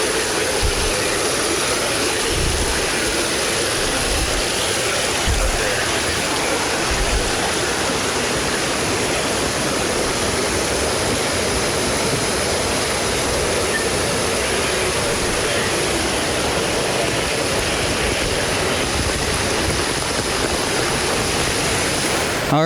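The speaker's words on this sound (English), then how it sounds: "There's a huge waterfall in the back on the corner" Large waterfall pouring down the hillside behind a flooded house, a loud, continuous rushing roar of water that stays steady throughout.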